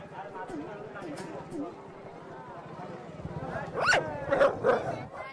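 Village dogs near tiger country bark in a short burst of several sharp yaps near the end, preceded by background murmur and faint movement.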